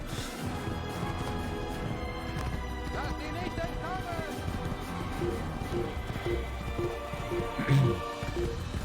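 Rhythmic hoofbeats of a galloping horse in the video game Assassin's Creed, over steady background music, with a brief louder thud near the end.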